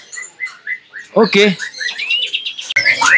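A white-rumped shama (murai batu) sings clear, loud whistled phrases and chirps close by, one varied song running throughout, briefly overlapped by a voice.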